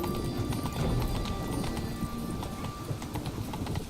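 Horse hooves clip-clop steadily while riding in a video game, a brisk, continuous rhythm of close, clear hoofbeats over a faint background hum, with no talking.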